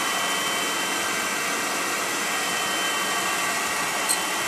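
A Clarkson drill grinding attachment grinds a drill bit with a steady, even hiss-like whir that holds constant throughout, fairly faint, with a tiny click near the end and no talk.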